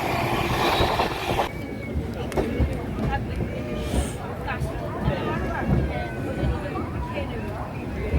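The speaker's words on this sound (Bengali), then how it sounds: "নাও এবার হাই স্পিড রেল জার্নি উপভোগ করো। স্পিড এখন 125 কিলোমিটার পার আওয়ার।" A Howrah–Puri passenger train at high speed, around 125 km/h, gives a steady loud rumble of running gear with faint rail clatter. Babble from passengers mixes in, and the noise holds constant throughout.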